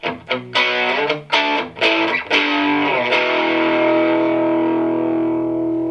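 Distorted electric guitar through a PRS SE50 amplifier playing several chugging chords, then a long sustained chord ringing out loud and alone.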